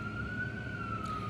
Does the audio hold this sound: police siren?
yes